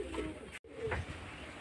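A pigeon coos softly at close range, with low murmuring calls broken by a brief gap partway through and no voices.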